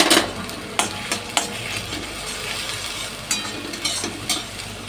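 Onions brown in hot oil for a green banana curry, a steady crackling sizzle punctuated by several sharp spatula strikes and scrapes against the pan, near and fairly loud.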